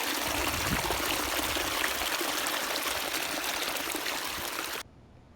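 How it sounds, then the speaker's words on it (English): Rainwater from about 43 mm of heavy rain rushes steadily into a filling farm dam, a loud, continuous close gushing stream that cuts off abruptly near the end. "So now the dam's going into overdrive filling up."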